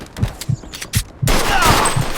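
Gunfire in the Mafia 2 Definitive Edition video game: a series of heavy, evenly spaced shots about half a second apart, joined by a dense, loud burst of rapid fire, close and without talk.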